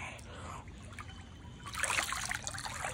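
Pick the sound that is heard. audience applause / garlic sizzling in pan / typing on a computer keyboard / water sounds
water sounds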